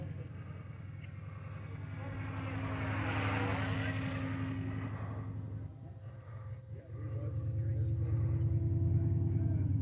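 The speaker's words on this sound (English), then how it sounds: "It is a slow flyby here." An RC Carbon Cub S+ plane on 4S power makes a slow flyby at an RC airfield, its propeller drone rising as it nears, dipping, then swelling again, over a low steady rumble.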